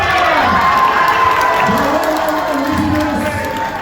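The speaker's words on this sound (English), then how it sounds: "Ladies and gentlemen, let's hear it for Ali Esposito!" A crowd at a Comic Con 2025 celebrity Q&A panel in Bahrain cheers and applauds, a loud sustained mix of shouting, whoops and clapping filling the hall.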